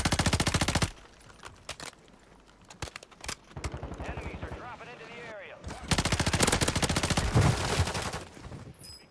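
Rapid automatic gunfire bursts from a battle royale video game match, loud dense volleys at the start and again later, with quieter stretches between where players talk over the game audio.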